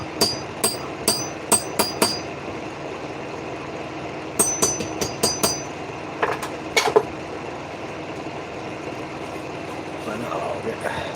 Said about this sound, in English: I put a rivet in it.